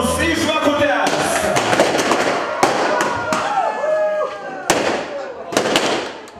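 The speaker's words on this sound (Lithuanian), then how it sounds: "tai buvo pirmas fejerverkas šį vakarą jūsų garbei" Fireworks at a Lithuanian wedding party crackle and bang in a rapid series of sharp bursts and pops, with crowd noise and voices underneath.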